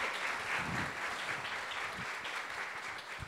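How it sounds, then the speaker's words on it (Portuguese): Audience applause at a Menos30 Fest career talk, a dense, continuous round of clapping from a crowd, fairly even in loudness throughout and without talk over it. "Palmas para os dois, amigos, brothers."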